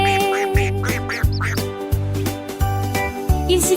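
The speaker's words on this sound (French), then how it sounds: "Il poussa un cri strident et un gazouillis" A duckling quacks in a children's nursery-rhyme song, its short repeated calls sounding over steady, loud music with regular bass beats.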